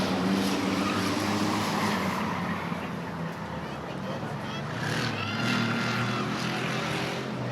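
Race car engines roar past during a heat race at Rockford Speedway, a loud sustained drone that swells and fades as cars come around, with an announcer talking over it.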